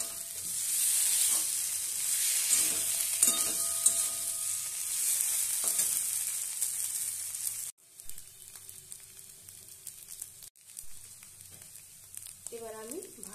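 Unpeeled potatoes fry in a pan with a loud, continuous sizzling hiss and occasional stirring clatter, then the sound drops to a quieter, intermittent crackle for the rest of the stretch.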